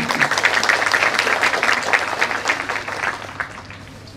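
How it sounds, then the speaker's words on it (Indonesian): Audience applause fills an evening gathering at a Kenduri Cinta forum in February 2023, a dense, steady wash of clapping from a large crowd that fades slightly toward the end. "Tepuk tangan sekali."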